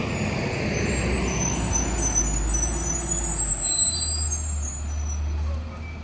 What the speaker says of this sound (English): Here we have a school bus.